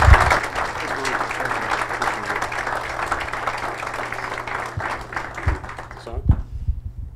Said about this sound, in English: So with that, Chairman Mike McCall, let's give him a big round of applause.